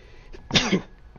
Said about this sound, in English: Had to sneeze, obviously.